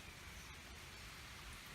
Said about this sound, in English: you hear it raining now